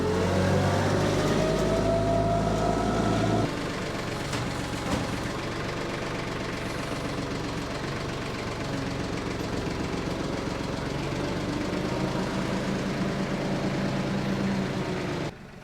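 Pickup truck engine running loud and close, a steady low rumble with a knocking edge that shifts character after a few seconds as the truck pulls away, continuing until it cuts down at the end.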